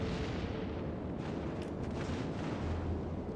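Continuous rumbling barrage of naval artillery fire and explosions from battleship combat in World of Warships, a dense, steady roar with no clear gaps and no speech.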